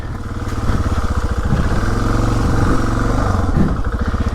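A Suzuki DR motorcycle riding off-road, its engine close and loud with a rapid chugging putter and small rises in revs throughout.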